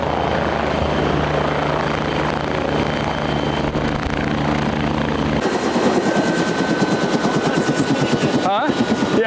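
A helicopter's engine and rotor drone on steadily. Partway through, the sound becomes a rapid, loud chopping pulse, like rotor blades heard close up.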